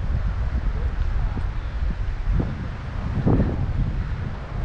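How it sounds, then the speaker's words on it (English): Wind gusting outdoors beside a limestone stream in central Pennsylvania, buffeting the microphone in a steady rumbling roar with brief louder bursts. "If the wind would stop."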